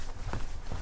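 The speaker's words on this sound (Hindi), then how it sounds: "कमरे के बाहर स्वप्निल को किसी की चलने की आवाज सुनाई दी।" Footsteps walk past outside a hotel room at night, a few soft, irregular steps close by against a low, steady background hum.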